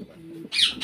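Fancy pigeons kept for sale give a low, soft coo, followed by brighter chirping calls that rise over it in two short bursts.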